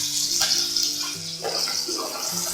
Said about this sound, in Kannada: ಈರುಳ್ಳಿ ಒಂಚೂರು ಸಾಫ್ಟ್ ಆಗೋವರೆಗೂ ಫ್ರೈ ಮಾಡ್ಕೊಳ್ತೀನಿ